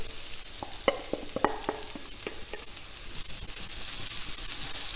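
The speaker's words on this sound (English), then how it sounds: "we're going to sweat the peppers with the onions now" Peppers and onions sizzling in a frying pan, a steady close hiss of frying with several sharp clicks and scrapes from stirring in the first half, and no talking.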